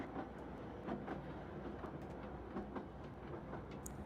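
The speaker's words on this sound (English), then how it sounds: "You should now be able to hear the train" Train passing in a virtual reality world, heard faintly at a distance as a low rumble with soft rhythmic clicking of wheels on track, no voices.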